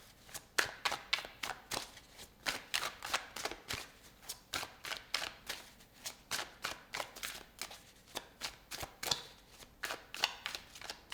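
Tarot cards are shuffled and handled in a soft, rhythmic series of riffling slaps and flicks, repeating roughly once a second at close range with no talking.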